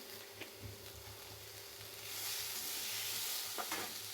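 Chopped tomatoes sizzle and crackle in a hot pan, with a soft stirring scrape and the sizzle growing louder partway through.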